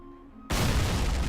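In the video game Men of War, a quiet hum is cut by one sudden, heavy boom of an artillery shot that leaves a loud, rumbling roar ringing out afterward.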